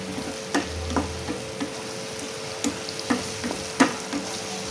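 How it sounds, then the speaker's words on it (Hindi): Ginger garlic paste sizzles and fries in a pan while a spoon scrapes and stirs in irregular taps, close and steady with no talking. "अदरक लहसुन के पेस्ट का रॉ स्मेल निकलने तक हमें इसे अच्छे से भूनना है।"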